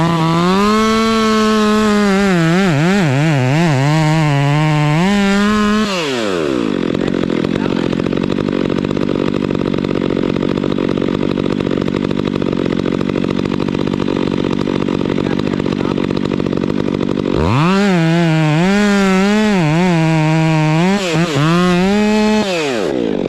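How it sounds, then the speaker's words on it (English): During a fast tree removal, a chainsaw revs in wavering, rising and falling bursts, then settles into a long, steady, loud roar as it cuts through the tree, before revving again at the end. "it's my goal to be making that cut with the chainsaw immediately"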